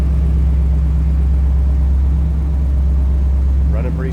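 A 1961 Ford Thunderbird hardtop's engine idles smoothly, a steady low hum close by, with a person speaking briefly near the end.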